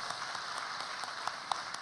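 A church congregation claps together during a Korean worship service, a steady mid-level wash of applause with a few sharper individual claps standing out, filling the space evenly.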